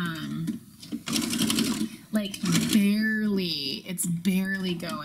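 A sewing machine stitches a narrow zigzag in short bursts of rapid mechanical whirring and needle chatter, close by, alternating with someone talking over and between the runs.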